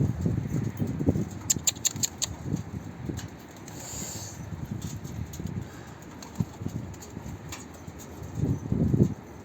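A pigeon coos softly in low, repeated throaty bursts, close by in a quiet indoor or sheltered space, with a few faint clicks and rustles between the calls.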